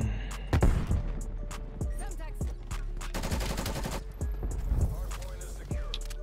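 Bursts of automatic gunfire and single shots from the shooter video game Call of Duty Black Ops Cold War, sharp, loud cracks in an irregular rhythm over a busy backdrop, with a player talking in between.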